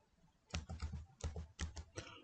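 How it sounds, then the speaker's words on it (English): Keystrokes on a computer keyboard while entering text into the Firefox search bar come in four short bursts of clustered, fairly close clicks separated by brief pauses, with no talk over them. "Type in this search bar about"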